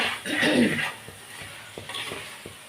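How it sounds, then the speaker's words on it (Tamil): Chicken chukka being stirred and tossed in a pan, a scraping swirl of spoon against metal with a faint sizzle, followed by several sparse, light clinks and scrapes at a steady pace. "இது நல்லா பெரட்டி எடுக்கணும்."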